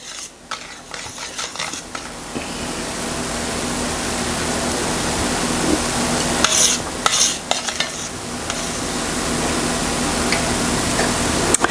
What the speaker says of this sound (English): You want to bring this to a boil over medium heat and stir it often.